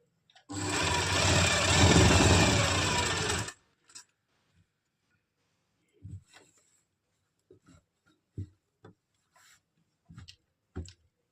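A sewing machine runs in one loud, close burst of about three seconds while stitching an Afghani salwar near the pocket, followed by scattered light clicks and handling taps in near silence.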